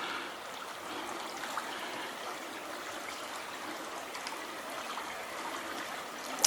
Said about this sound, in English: I love the sound of that moving water.